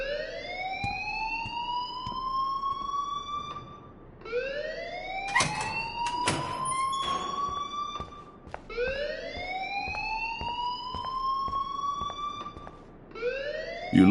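A school alarm in the Life is Strange video game wails in repeated rising electronic sweeps, loud and steady over about fourteen seconds, with a few sharp clanking hits partway through and no speech.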